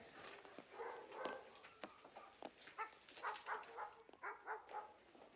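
A white poodle barks and whimpers in a string of short yips and whines, fairly close, with no talking around it.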